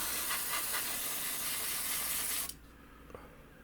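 Thinned grey Mr. Colour 335 paint sprays onto a 1/100 scale Tamiya Grumman A-6A Intruder model kit in a steady close airbrush hiss, which cuts off abruptly after about two and a half seconds, leaving quiet room tone and a faint click.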